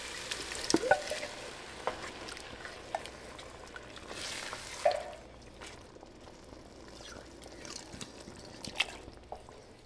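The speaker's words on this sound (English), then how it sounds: "Now we're gonna let this simmer on the stove and get nice and infused with all those beautiful flavors." Curry paste and coconut milk simmer in a pot on the stove, giving a soft, steady bubbling and light sizzle with a few small clinks, fairly quiet throughout.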